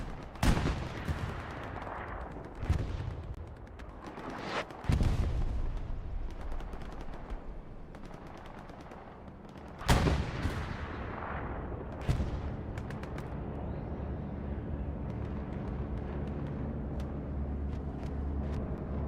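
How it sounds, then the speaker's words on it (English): Bombing-run explosions in the World War II shooter Hell Let Loose, several heavy booming blasts with long rumbling tails spaced a few seconds apart, loud and near, with engine drone and distant gunfire between them and no talking. "And we'll go to the bombing run, see how that's going."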